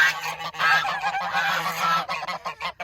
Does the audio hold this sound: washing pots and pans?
no